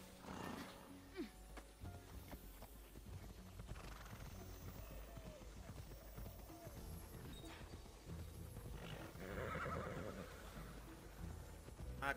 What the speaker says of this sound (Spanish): ¡Hey! ¡Caballo!